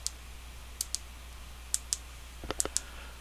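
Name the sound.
clicking buttons on a loud Fire TV remote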